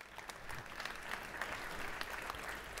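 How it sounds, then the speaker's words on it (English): An Easter church congregation gives quiet, scattered applause, a soft and somewhat distant patter of many hands clapping that builds slightly and carries on steadily without talk. "Yes, you can clap for that."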